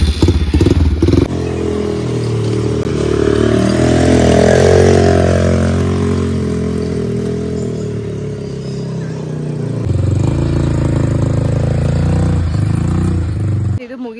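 An ATV engine runs steadily on a resort track near Bannerghatta, Bengaluru, with a rough motor drone, clattering and thumps that swell and fade across the stretch while voices talk over it.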